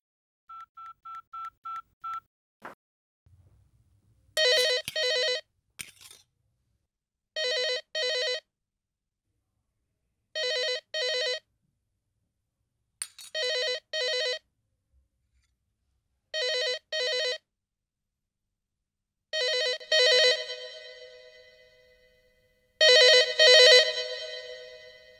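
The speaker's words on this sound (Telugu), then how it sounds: "ల్యాండ్ ఫోన్ చేయి" A landline telephone is dialed, with a short run of evenly spaced keypad tones followed by a faint click, then repeated ringback bursts in a regular ring pattern, moderately loud and clear with no talking.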